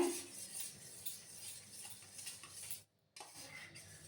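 A fork or spoon beating a raw egg in a bowl, quick light clinking and whisking strokes, faint and close, with a brief silent gap near the end before the beating resumes.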